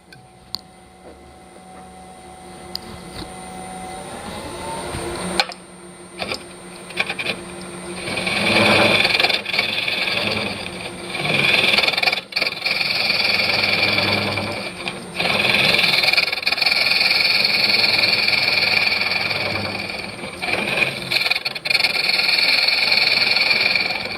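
A wood lathe turns a bowl while a tenon is cut, giving a steady mechanical hum broken by loud, rough scraping bursts of the tool against the spinning wood, close and continuous.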